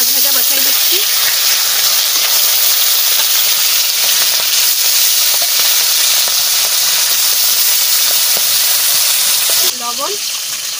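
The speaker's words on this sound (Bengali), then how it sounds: "মাছ ভাজা বসাই দিচ্ছি" Tilapia fish fry in hot mustard oil in a home kitchen, giving a loud, continuous sizzling hiss up close that barely eases near the end, with a brief voice at the end.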